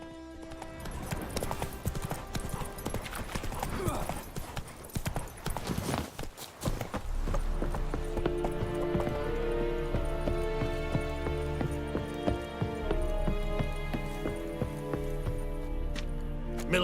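Roach the horse's hooves clip-clop steadily in The Witcher 3, a continuous trotting rhythm heard close under ambient game music and effects.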